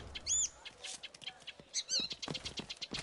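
Bird calls in the stealth video game Assassin's Creed Chronicles China: a few short, bright chirps near the start and again around the middle, over scattered game clicks and rustles, with no one talking.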